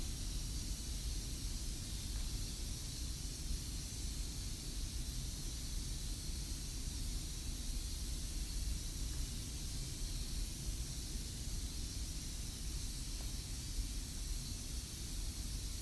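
A soft, continuous hiss of a spray gun, even and unbroken throughout, with no voices.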